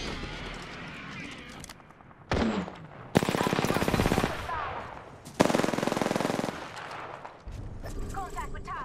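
Automatic gunfire in the battle royale game Apex Legends, loud sustained bursts of rapid shots broken by short pauses, a brief clank and a lighter clatter near the end, while someone speaks in between.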